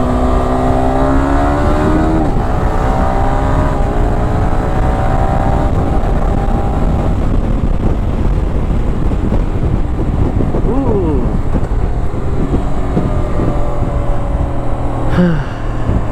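A loud Yamaha R15M motorcycle engine revs and drones continuously, its pitch rising and falling as it accelerates, with wind buffeting the microphone throughout.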